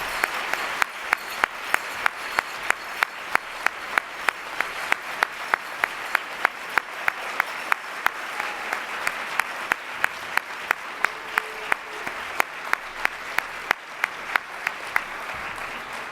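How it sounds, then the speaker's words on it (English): Steady audience applause in a hall at a conference opening plenary, dense rapid clapping that holds evenly for about sixteen seconds with no voices on top. "All right, another round of applause, please."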